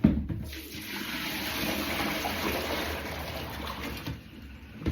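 Water gushes out and drains down a sink in one continuous rushing, gurgling pour that swells at the start and tapers off near the end.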